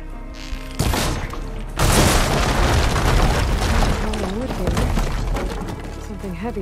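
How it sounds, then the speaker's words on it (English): A fire gleam blows up in Horizon Forbidden West: a sharp blast, then a second heavy boom that rolls into a long, loud roar of debris and crackling. Game sounds continue underneath. "We can blow that fire gleam there."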